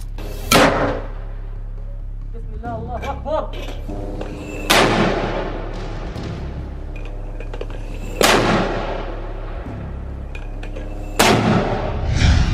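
Rocket launchers fire rockets in four sharp, loud blasts spaced a few seconds apart, each with a booming whoosh that trails off, over a steady low rumble.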